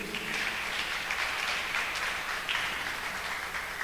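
Inside a church, a congregation claps for the Lord Jesus in a steady, even patter of many hands, fairly faint and distant, with no talking over it.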